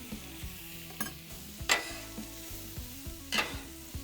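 Onions sizzle in butter on a flat griddle, a soft steady hiss broken by several sharp spatula scrapes and clacks, close and moderately quiet, with no voice.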